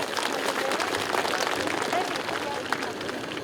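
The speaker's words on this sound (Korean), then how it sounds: "이분들께 박수 한번 힘차게 한번 보내주십시오" Audience applause at a Park Chung-hee statue unveiling ceremony, a steady dense wash of clapping from a crowd that holds evenly across the whole stretch, with no voices standing out.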